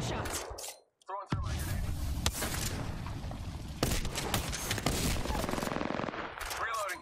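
Rapid automatic gunfire and repeated shots in a video game firefight, loud and dense for most of the stretch after a brief lull, with scattered game sounds and a voice briefly audible.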